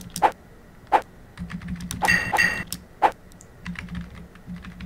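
Computer keyboard keys are struck during a Prince of Persia level 8 swordfight, with sharp separate clacks at first, then a quick flurry of presses over a low hum.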